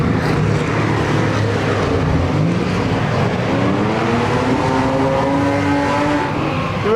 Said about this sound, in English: V8 powered Lexus, probably a 1UZ